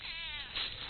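An elderly cat gives one short, close meow with a slight wavering tone, alone and heard in muffled, band-limited quality.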